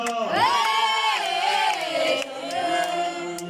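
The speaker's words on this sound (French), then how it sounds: "Est-ce qu'on peut acclamer?" A church congregation cheers and shouts for their pastor at his birthday celebration, a dense, sustained crowd roar with whoops and raised voices running loud and continuous throughout.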